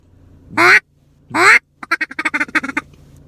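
A Zink Call Power Hen duck call blown to imitate a hen mallard: two long, loud, nasal quacks, then a rapid run of short, choppy feed-call notes, close and with no talk.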